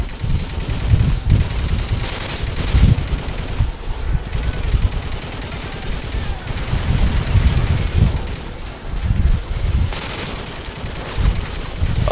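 Sustained gunfire in the video game Call of Duty: Modern Warfare 2, dense bursts of automatic weapons and rattling shots layered over a rumbling battle din, loud and continuous.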